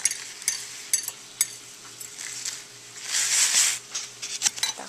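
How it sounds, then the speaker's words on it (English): Beef cooking in a creamy pesto sauce in a pan and stirred by hand, with bursts of metal utensil scraping and clinks, a louder sizzling surge midway, and a quiet steady hum beneath, close and with no talk. "add this creamy pesto sauce mix. That's how we're gonna mix"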